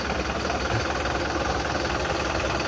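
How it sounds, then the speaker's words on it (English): The diesel engine of a 2011 Mercedes-Benz Vario 816D Plaxton Cheetah 29-seat midi coach runs with a steady, loud, gritty rumble and a knocking throb, heard from inside the coach with no break. "the familiar sound of the Vario engine"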